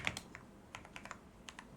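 Keys clatter in an irregular run of soft clicks as code is written on a computer keyboard, close and fairly quiet, with no one talking.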